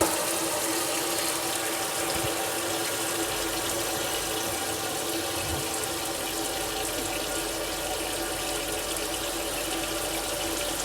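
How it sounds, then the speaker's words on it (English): Kitchen faucet running in a vintage 1957 Airstream trailer fitted with a tankless water heater, a continuous steady hiss of flowing water with a faint low pump hum beneath it, close and uninterrupted, no talk. "going to hit the faucet in the kitchen"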